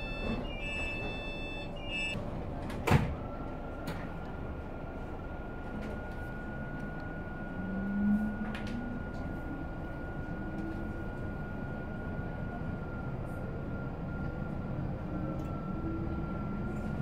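Class 458 electric multiple unit train running toward London Waterloo, a steady low rumble and rolling hum from inside the carriage with a faint sustained whine, a sharp clunk near the start and a brief swell partway through.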